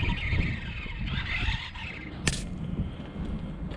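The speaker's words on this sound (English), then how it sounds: "it's the back of the car that's grinding on the floor" Rough scraping roar of an RC drag car's rear body grinding along a parking lot floor, continuous and close, with a sharp click partway through.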